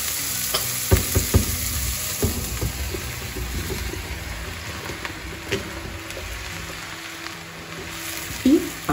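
Mushrooms fry in oil with onions in a pan, giving a soft, steady sizzle broken by scattered clinks and scrapes of stirring, with faint talk in the background.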